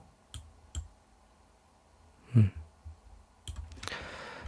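A computer mouse clicking while shapes are copied with Ctrl and Shift and dragged in presentation software. A handful of sparse, close clicks are scattered through near-silence, with a soft thump in the middle and a short cluster of clicks toward the end.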